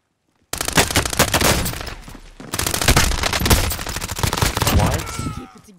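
Rapid MP5 submachine gun bursts in the Warzone video game, loud sustained automatic fire in two long volleys separated by a brief pause, starting abruptly after a moment of silence.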